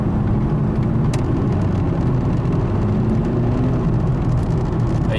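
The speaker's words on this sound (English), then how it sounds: "That was the torque converter or the transmission slipping" A car cruising near 60 mph as its torque converter or transmission slips under light throttle: a steady low engine drone and road rumble with a faint rising whine, continuous and close, no voices.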